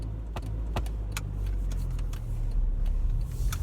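A learner driver's car pulls away from the kerb past parked cars, its engine a low steady hum with soft interior clicks and rattles and a slight rise as it moves off.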